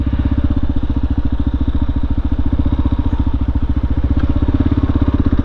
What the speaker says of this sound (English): I'm on a 2017 KLR 650.